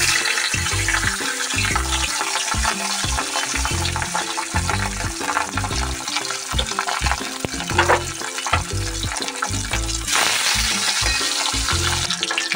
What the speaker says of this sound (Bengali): চলুন এবার মাছটাকে ভেজে নেওয়া যাক